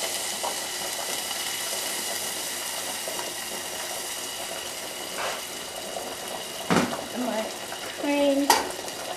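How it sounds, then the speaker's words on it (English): A beef steak sears in a hot pan with a constant, even sizzle. Near the end come a few sharp metallic clinks and scrapes of utensils against the pan. "I've sealed the top, the bottom and the sides of my steak"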